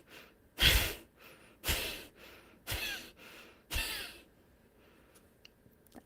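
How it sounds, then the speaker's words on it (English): Rhythmic Bhastrika breathing: four forceful, breathy exhalations and inhalations in a row, each about a second apart, loud and close to the mic, then quiet, with no speech. "So take a deep breath in."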